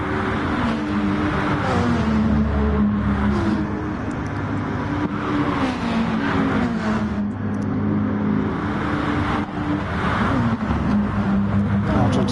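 Racing car engines in a PS4 racing video game, a continuous loud engine drone with rising and falling revs through gear changes and braking into a right-hand corner, under race commentary.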